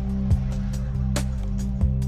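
A printer runs in the background of a room where a computer game is being played, giving a steady low mechanical hum with a few brief clicks and soft knocks.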